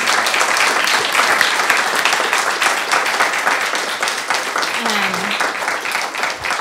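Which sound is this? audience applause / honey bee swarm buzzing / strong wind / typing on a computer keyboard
audience applause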